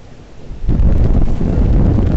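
A sudden, loud gust of typhoon wind during Typhoon Hato at the Star Ferry Pier in Hong Kong buffets the microphone, rising abruptly from a quieter rumble into a sustained roaring blast.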